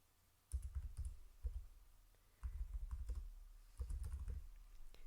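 Bursts of typing on a computer keyboard, entering a song title and singer's name, come in three or four clattering runs separated by short pauses, close and fairly quiet, with no talking.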